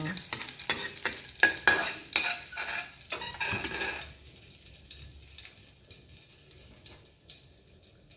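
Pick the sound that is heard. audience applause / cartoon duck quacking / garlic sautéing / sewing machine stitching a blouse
garlic sautéing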